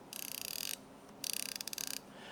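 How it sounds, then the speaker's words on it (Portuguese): Line-out alarm of a Brisa Super BG baitcasting fishing reel, two bursts of rapid, close metallic clicking separated by a short pause, with no one talking. "ela tem o alarme de tomada de linha"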